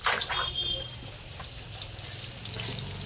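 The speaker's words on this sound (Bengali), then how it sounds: "হাত থেকে ধুয়ে নেব।" Hands being rinsed under running tap water at a kitchen sink while cooking shrimp chops, a steady close splashing trickle with a few drips, no talk.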